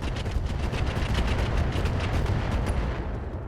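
A mech fires rockets in the RogueTech game, a dense, continuous rumble of rapid blasts and explosions at constant loudness, with no talk over it.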